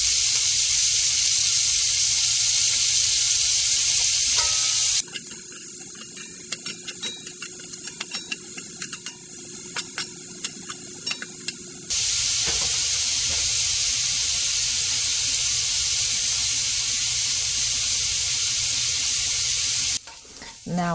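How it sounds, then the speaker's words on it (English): Onions, garlic and fresh jalapenos sizzle and fry loudly in a pan with sausage, with a steady hiss that shifts in tone partway through as the vegetables are stirred. "add our onions, garlic, and fresh jalapenos to that mix and let that cook an additional 2 minutes"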